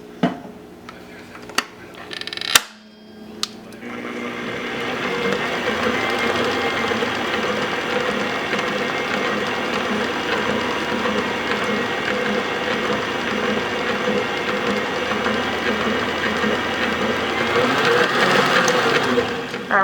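An electric mixer whirs steadily through 7 UP pound cake batter with vanilla flavoring, a continuous mechanical drone after a few sharp knocks at the start, with no talking.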